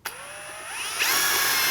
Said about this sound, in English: I'm gonna pre-drill this one last hole